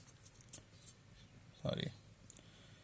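Marker or chalk scratching across a board during a maths lecture, heard as a few short scrapes and taps, with one longer stroke in the middle; the sounds are faint and sit under quiet room noise.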